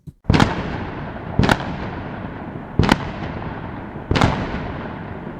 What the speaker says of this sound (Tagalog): Narinig ni Sasha mula sa loob ng mobile ang sunod-sunod na putok ng baril